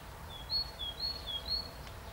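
Outdoors, a small bird gives about four short, high chirps in an even rhythm over a low background hum, fairly clear but not loud.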